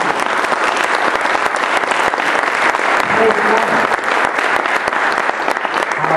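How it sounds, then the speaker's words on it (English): A congregation at a church service gives sustained, dense applause, many hands clapping steadily and loudly without pause. "give Him a great big clap offering"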